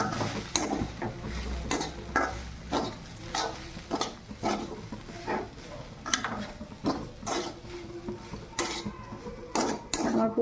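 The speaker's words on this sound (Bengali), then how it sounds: "এবার আমি এটাকে ভালো করে নাড়াচাড়া করে নেব।" A spoon scraping and clinking against a pan while spiced kachori filling of fried spice, cumin, coriander and chili powder is stirred, giving repeated rhythmic scrapes over a faint sizzle.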